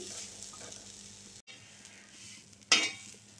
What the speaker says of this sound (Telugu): ఇలా వేయించుకోవాలి.